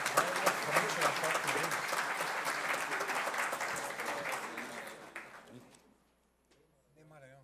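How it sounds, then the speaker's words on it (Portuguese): Audience applause at an installation ceremony for a new board of directors, steady and dense for about five seconds before fading to near silence, with a brief voice at the end. "Peço uma salva de palmas a todos"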